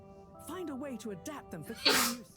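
A video game character from Harold Halibut gives a single short sneeze near the end, right after another character speaks.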